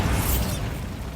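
Bombarda blasting spell in Hogwarts Legacy: a short, loud, broadband explosive burst with a rumbling low end that fades slightly over about a second, heard alone.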